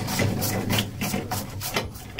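A small screwdriver works screws out of the flush plate of a wall-hung Siamp Verso 350 toilet cistern, giving repeated close scraping and clicking bursts in a steady rhythm, with no speech.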